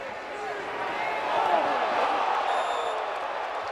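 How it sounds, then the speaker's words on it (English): Stadium crowd at an indoor arena football game roaring steadily after a hard hit, a broad sustained cheer swelling to a peak in the middle and then easing slightly, with no talk over it. "You can hear the roar of the crowd."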